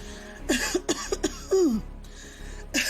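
A woman's series of hacking coughs, several short bursts and then a longer, strained one, close and fairly loud.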